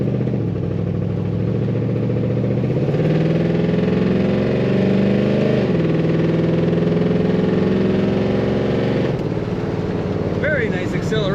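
A 1969 Chevrolet Chevelle with a horseshoe automatic shifter runs under load, its engine and tailpipe exhaust giving a steady, loud drone that climbs and shifts in pitch as it accelerates, with a voice talking over it.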